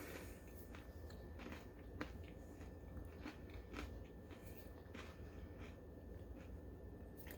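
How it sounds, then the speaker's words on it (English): Crunchy pumpkin spice ranch and dill pretzels being bitten and chewed close up, a steady run of soft crunches and mouth sounds with no talking. "Pretzels are crunchy."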